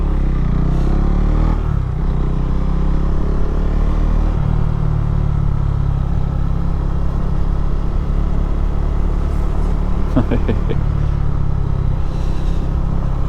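Motorcycles on a group ride, including a BMW 1200 GS, rumble loudly and continuously, with engine drone and wind noise throughout and brief shifts in pitch as they accelerate.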